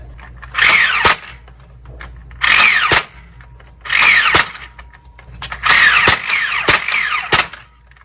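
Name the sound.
struggling motor of a toy blaster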